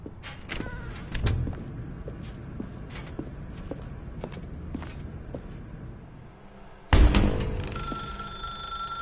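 A telephone rings in The Stanley Parable video game: a bright, sustained electronic ring starts suddenly near the end and stays loud and close, after a stretch of faint clicks and scattered taps.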